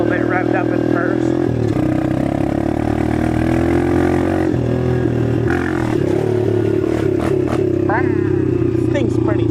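A small dirt bike engine idles and revs in steady, buzzing surges on a track as the rider sets up a clutch wheelie, up close, with people talking over the motor throughout.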